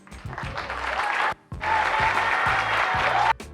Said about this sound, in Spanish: Quiero que le den un fuerte aplauso